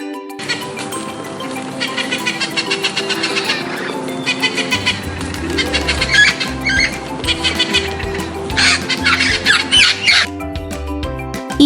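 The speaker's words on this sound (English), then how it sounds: "Parrot." A parrot squawks loudly and repeatedly, harsh rasping calls in rapid bursts over several seconds, close and alone without talk.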